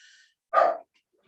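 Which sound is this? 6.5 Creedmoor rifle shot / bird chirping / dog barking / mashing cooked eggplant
dog barking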